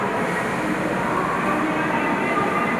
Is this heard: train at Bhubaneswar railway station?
yes